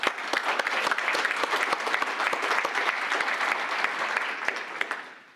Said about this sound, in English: one more big round of applause for everyone